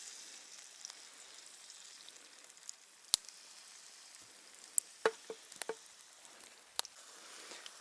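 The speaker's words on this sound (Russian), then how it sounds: "Попробуем поджарить оладьи." Pancake batter sizzles quietly in a hot pan, a soft steady hiss broken by scattered sharp pops and crackles.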